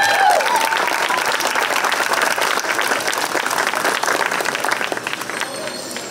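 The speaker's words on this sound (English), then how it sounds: "let's give all contestants another big round of applause for coming out here this evening." An audience at a county fair talent show applauds, a dense, loud, continuous burst of clapping from the crowd that fades slightly toward the end, with a few voices mixed in.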